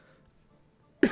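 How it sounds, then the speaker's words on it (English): A single short cough bursts out at the very end after near silence, close and sudden, during a Civilization VI Gathering Storm game session. "sorry for coughing"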